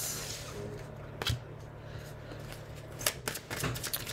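Tarot cards are drawn and handled during a reading, with soft papery shuffling and a few sharp flicks and slaps of cards close by in a quiet room.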